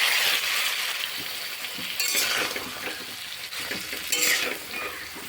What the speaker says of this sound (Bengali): মশলার সঙ্গে সবজিগুলো একটু কষে নেব।